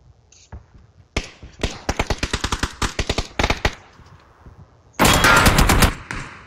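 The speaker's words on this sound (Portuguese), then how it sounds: "olha a rajada que o cara me deu!" Rapid bursts of automatic gunfire in a shooter video game, with sharp repeated shots growing denser and a loud sustained volley near the end.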